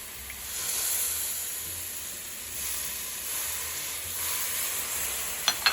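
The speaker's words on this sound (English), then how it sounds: "keep frying the yogurt and the besan and the masalas on a medium flame" Yogurt, besan and masalas fry in a pan over a medium flame, giving a soft, steady sizzle and hiss that swells and eases gently, with a couple of faint clicks at the end.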